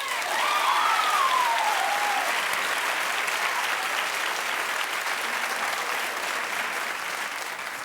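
Studio audience applause from a talk show crowd, a steady dense wash of clapping lasting the full stretch, loud and even, with a faint whistle or cheer near the start.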